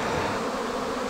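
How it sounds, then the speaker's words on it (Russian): Honey bees working intensively make a dense, continuous buzzing hum, close and fairly loud, steady throughout the brief moment with no voices. "Пчелы интенсивно работают."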